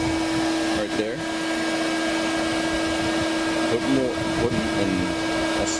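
A pool vacuum runs at a 21-foot by 54-inch Saltwater 8000 above-ground pool, sucking at the liner with a steady loud motor whine and airy whoosh, while a voice briefly murmurs over it.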